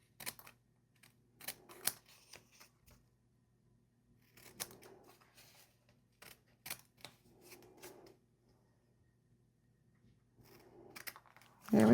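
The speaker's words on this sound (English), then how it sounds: "next thing you'll need is a pair of scissors. You'll flip this over and just trim off this excess that you see." Scissors trimming excess paper on a quilt-style paper star craft project, heard as several short separate snips and cutting bursts, close and fairly quiet, with no talking.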